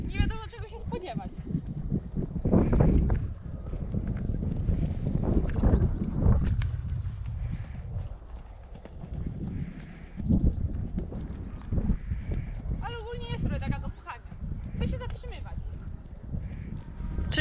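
Hooves of a ridden palomino perlino horse thud and clop irregularly at close range, mixed with wind noise on the microphone while people talk over most of it.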